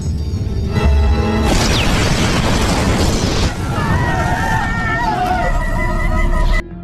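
Action-film explosion: a heavy boom bursts out near the start, followed by a rumbling, crackling aftermath and blaring music-like tones, all loud and dense.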